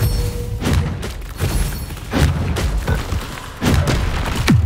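Bombarda spell blasts in Hogwarts Legacy land as repeated loud booming thuds and crackling bursts amid dense combat noise, several impacts spaced about a second apart.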